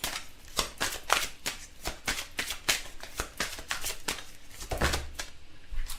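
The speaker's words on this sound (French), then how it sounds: "on va tirer quelques cartes du Petit Lenormand pour voir un petit peu ce qui va se passer aujourd'hui" Petit Lenormand oracle cards being shuffled by hand in a quiet room, a close, steady run of crisp riffling flutters over about six seconds with no talking.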